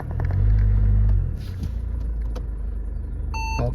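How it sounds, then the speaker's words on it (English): A Mercedes-Benz CLA220d AMG Line Shooting Brake with the 2.1-litre diesel engine starts with a loud, deep rumble that settles into a quieter steady idle, and a short electronic beep sounds near the end. "Just start the car up. Starts up brilliantly."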